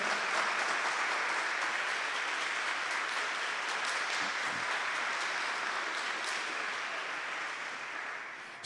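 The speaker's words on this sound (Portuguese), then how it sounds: "Uma salva de palmas para o tratado da verdadeira devoção." A small audience at a religious talk gives steady, fairly soft applause that runs evenly for several seconds with no speech over it.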